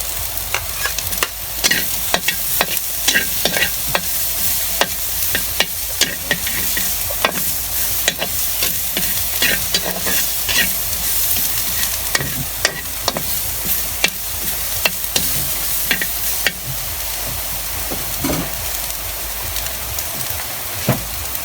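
Meat and onions stir-frying in a pan for pinakbet, a continuous loud sizzle broken by frequent scraping clicks of a utensil stirring against the pan, with no talking.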